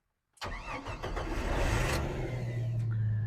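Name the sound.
Jeep Wrangler YJ engine cranking and starting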